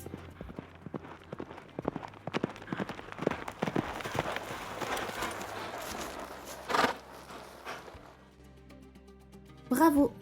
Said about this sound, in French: tu as reconnu le cheval au galop.